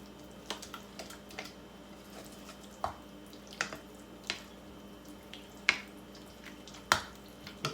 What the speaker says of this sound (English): So I'm going to stir this jelly